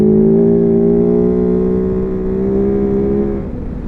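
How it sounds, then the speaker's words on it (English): A Kove 450 Rally motorcycle engine drones at steady high revs while riding fast gravel, a loud close continuous tone that holds level and then eases slightly near the end, no talking. "you guys know I love to rip up fast gravel, and this bike eats it up"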